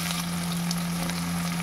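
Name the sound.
chopped onion added to hot oil, sizzling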